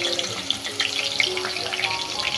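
Garlic and onion hit hot oil in a pan for a chicken dish, giving a steady, loud, close sizzle that crackles continuously without pause.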